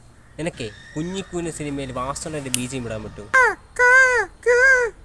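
Three loud, drawn-out crow-like caws follow a stretch of conversational speech, apparently a human voice imitating a cawing crow, close and clear.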